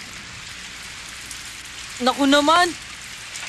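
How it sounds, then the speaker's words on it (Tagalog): Rain falls steadily in an animated Doraemon episode, a constant close hiss of drops on surfaces, broken briefly by a single shouted exclamation. "Umuulan!"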